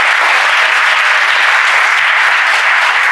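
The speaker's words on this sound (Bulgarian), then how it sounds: "но все пак аплодисменти и за тях." An audience at an anti-drug prevention event applauds in a continuous, loud, even burst of clapping that fills the whole stretch without pause or speech.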